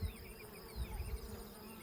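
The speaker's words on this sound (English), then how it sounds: "it is just unreal at all the bees in this buckwheat" Bees buzz quietly all around in a buckwheat patch, a soft continuous hum with individual insects droning past, and no voices.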